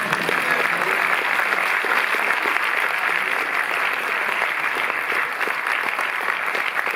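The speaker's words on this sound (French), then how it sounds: "Oui, oui, vous pouvez applaudir." An audience at the Paris Cinémathèque applauds during a film presentation, sustained dense clapping filling the hall at an even, loud level throughout.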